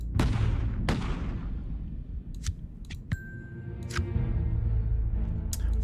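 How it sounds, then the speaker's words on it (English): Flintlock pistol gunshots in the Occult Chronicles video game: several sharp, loud cracks at uneven intervals, each with a short ringing tail, over a steady low background. "Let's fire the flintlock."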